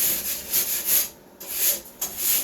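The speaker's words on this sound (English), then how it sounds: "We're going to rasp it a little bit." A hand rasp scrapes along a sheetrock edge in several short, rough strokes up close, with brief pauses between passes.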